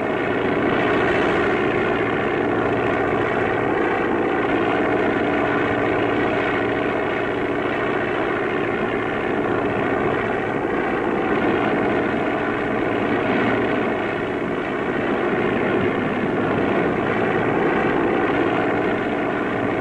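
An autogyro fitted with floats takes off from and lands on water, its propeller engine droning loudly and steadily throughout with no pauses, close and alone without voices.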